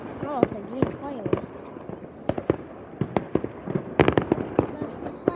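New Year's fireworks in Hallstavik, Sweden burst in a rapid scatter of sharp bangs and crackles, some near and some farther off, with people talking and whistling tones between the pops.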